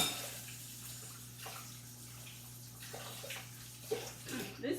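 Hands washed under running water from a tap in a home kitchen while cooking, a faint continuous splashing hiss with a few louder splashes and rubbing near the end.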